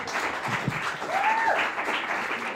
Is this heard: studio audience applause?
yes